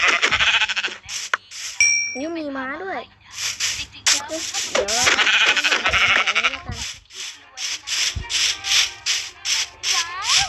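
Sheep in the video game Minecraft let out a couple of warbling bleats in the middle of the stretch, mixed in among fast-paced game sounds and someone talking over much of it.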